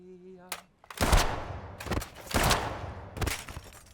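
Several sharp, booming bursts of gunfire, three or four loud blasts spaced about a second apart, with a brief voice before the first shot.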